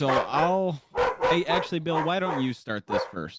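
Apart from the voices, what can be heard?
dogs barking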